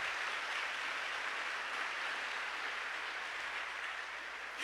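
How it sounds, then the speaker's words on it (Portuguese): Steady, dense applause from a crowd, sustained evenly throughout with no talking over it. "pode aplaudir, pode aplaudir"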